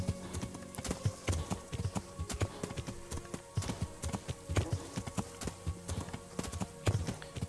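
Horse hooves clip-clop in a steady walking rhythm in the medieval video game Kingdom Come: Deliverance, with clear close hoofbeats and faint creaks of tack throughout.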